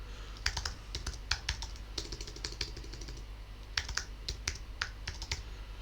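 Rapid typing on a computer keyboard, with irregular bursts of close, crisp key clicks broken by short pauses, alone with no voices.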